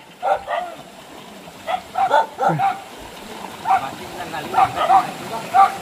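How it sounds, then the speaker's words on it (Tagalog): Dogs bark and yip in the distance, scattered short calls over a murmuring outdoor background with faint voices, on a trail to a waterfall. "yung aso, ingat sa mga aso"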